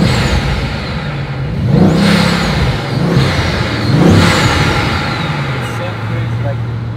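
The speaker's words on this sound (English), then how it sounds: "Now that's a W16 engine behind me right now." A Bugatti's W16 engine revs in two strong surges over a continuous rumbling drone, heard from inside the car at close range.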